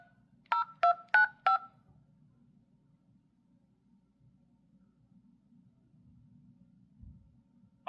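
Four quick dual-tone keypad beeps sound as a PIN is entered on a RedMagic 9 Pro Plus phone during a call, followed by a quiet line hum and a faint click at the end.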